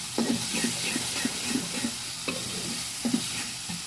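Ginger-garlic paste, onion paste, turmeric, chili and salt sautéing in a pan for a snakehead fish and new potato curry, a constant loud sizzle and hiss with rhythmic scraping stirs of a spatula, close up and without speech.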